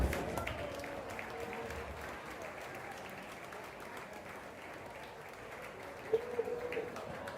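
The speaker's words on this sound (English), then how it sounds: "Let's give them a big round of applause." A crowd at a high school centennial celebration applauds, the clapping steady but fairly faint and distant across the room, with a few louder claps near the end.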